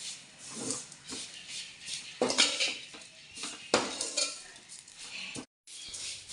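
Drumstick leaves are sautéed in a metal pan, with close clattering spatula scrapes and clinks in uneven bursts and a brief moment of silence near the end.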